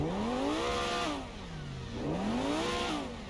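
A Lamborghini Revuelto engine in GTA Online revs loudly twice, pitch climbing, dipping and rising again in smooth sweeps with no voices over it.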